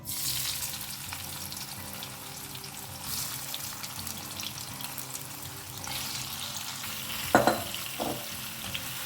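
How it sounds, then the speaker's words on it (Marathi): Chicken sausages fry in hot oil in a pan, a steady close sizzle with occasional stirring clatter and a couple of sharper knocks toward the end. "आतां न्ही आमकां हे सॉसेजीस न्ही बरें फ्राय करून घेवंक जाय"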